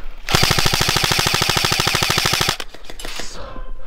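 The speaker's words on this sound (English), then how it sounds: "Taking fire from 11, Ben." Rapid airsoft gunfire in the snow during a winter airsoft game: a long, fast, steady burst of evenly spaced shots for over two seconds, loud and close, then stopping abruptly, followed by a few scattered clicks and rustling.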